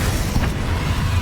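A Confringo fire spell explodes in the video game Hogwarts Legacy, a loud, dense, continuous rumbling boom that fills the short moment without pause.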